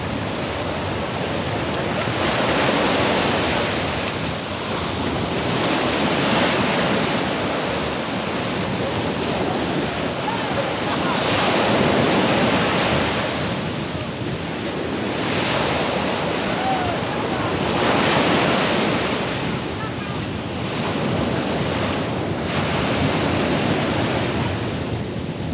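Ocean surf on a Florida beach, rolling waves breaking in slow repeated swells with steady wind rushing over the microphone, loud and continuous.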